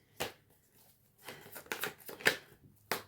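Tarot cards being shuffled and dropping onto a surface, heard as a few short separate papery slaps and riffles with quiet gaps between them, close up and fairly soft.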